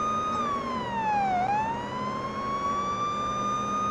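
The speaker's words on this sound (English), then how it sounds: "So there's also different types of sirens here." Police car siren in the Police Simulator: Patrol Officers video game, a loud close wail that dips and rises in one sweeping cycle over a low engine rumble, with no talk.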